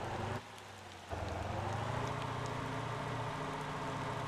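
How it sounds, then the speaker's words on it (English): Rain falls in the Motor Town: Behind The Wheel driving game on a rugged logging trail. A steady, dense hiss continues with a low vehicle engine hum beneath it. "And now it's raining."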